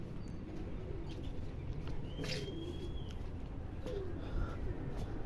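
Pigeons, one with clipped wings, landing and settling on a rooftop; faint soft coos and light flutters sit low beneath a steady wash of outdoor background noise.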